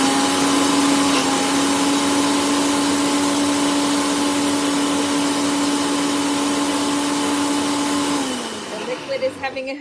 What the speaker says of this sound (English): And let me blend this.